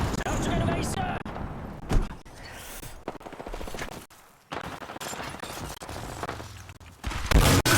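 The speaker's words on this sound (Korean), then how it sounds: "총소리 여기다." Bursts of gunfire in the video game Apex Legends crack and pop in irregular volleys, with sharp single shots mixed in, while a person speaks briefly between them.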